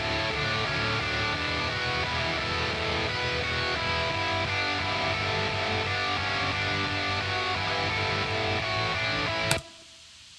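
A dense, distorted pop punk electric guitar riff plays continuously and loud, then cuts off abruptly near the end, leaving near silence.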